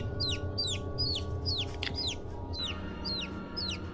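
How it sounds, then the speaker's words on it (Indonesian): Baby chicks chirp back and forth at night in a steady series of about eight bright, high, downward peeps. They sound close and carry over a low hum, with nobody talking. "terdengar suara anak ayam saling bersahutan satu sama lain"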